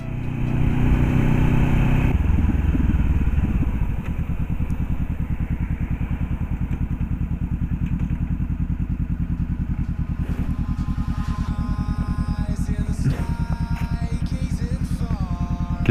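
A Honda CBR500R motorcycle fitted with an XIL Race exhaust and one baffle removed, heard as a loud, steady low engine rumble with a pulsing beat, heavier at first and then settling to an even throb.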